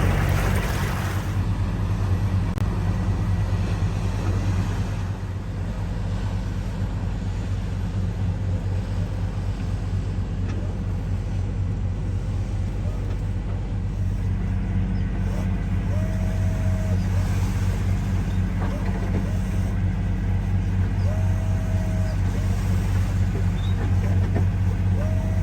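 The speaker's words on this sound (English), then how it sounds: "I think we will continue motoring. Currently just on the port engine." A sailing catamaran motoring through waves on its port engine only, giving a loud, continuous low drone with steady rumble and rushing water noise throughout, plus faint voices in the background.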